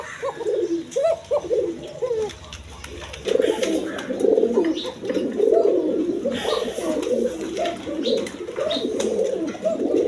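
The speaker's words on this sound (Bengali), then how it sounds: "এটা ডাক থামেই না, অরিজিনাল বাসিরাজ কোকা কবুতর" An original Basiraj koka pigeon coos over and over in soft, throaty rolling phrases, close by and nearly continuous, with a short lull before the calling picks up again.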